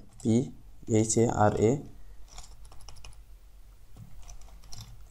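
Computer keyboard typing of HTML paragraph text, a quick run of clicky keystrokes following a stretch of speech, fairly close and moderately loud.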